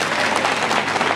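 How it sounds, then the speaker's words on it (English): A church congregation applauds during a sermon, a dense, steady wash of clapping from many hands, close and sustained over a short stretch. "Clap for her once again."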